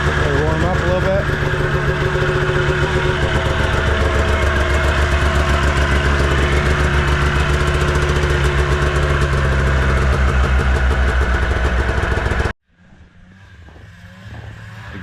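Arctic Cat snowmobile engines idling while warming up, with a loud, rough, steady two-stroke drone close by that cuts off abruptly near the end and leaves faint background sounds.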